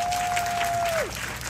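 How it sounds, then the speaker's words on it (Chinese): An audience applauds performers at an outdoor show of Japanese traditional performing arts in Hualien. The clapping is dense and steady throughout, and a thin sustained tone slides downward near the end. "大家再给他们一次掌声好不好"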